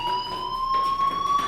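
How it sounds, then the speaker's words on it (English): A fire alarm rings inside the video game Life is Strange, a steady high electronic tone with bright overtones that holds unbroken and fairly loud throughout, alone with no talk. "Hey, do you hear that fire alarm?"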